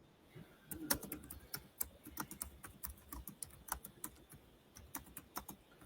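Someone types on a computer keyboard, a quick irregular run of faint, crisp key clicks with short pauses between bursts.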